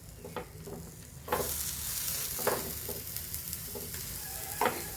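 Wheat bread sandwich with cheese toasting in a pan after flipping: a low sizzle jumps louder after a scrape of the turn, with a few soft spatula taps and clicks nearby.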